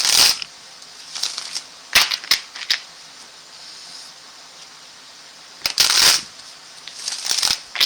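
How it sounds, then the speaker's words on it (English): Tarot cards being shuffled by hand at a live reading. The crisp, crackling riffles come in several separate bursts with quiet pauses between them, close and fairly loud, with no voices. "Let me shuffle the cards again, please."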